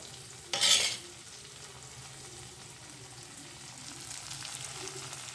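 A spoon scrapes through khichdi with salt and chana dal in a pan, one sharp clatter near the start and then a low steady simmer and faint sizzle running under it.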